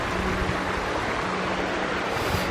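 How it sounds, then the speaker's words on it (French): Strong, steady rush of water from a waterfall near Lac de Guéry, Mont-Dore, a dense continuous roar close by with no pauses or voices. "Je pense qu'il y a une cascade. Parce que là, ça coule fort."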